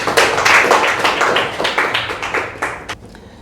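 Studio audience clapping for a contestant at a school science quiz in Hindi, a dense burst of many hands applauding together that tapers off after about three seconds.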